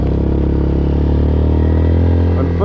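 A Yamaha Sniper 155 motorcycle climbs a steep incline in second gear. Its engine makes a loud, close, straining drone throughout, with a brief clatter near the end.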